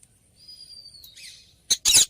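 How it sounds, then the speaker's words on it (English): A cartoon parrot's call in a children's phonics alphabet song: a thin sustained whistle, then a brief squawk and two sharp, loud bright screeches at the end, alone with no talking. "P for parrot."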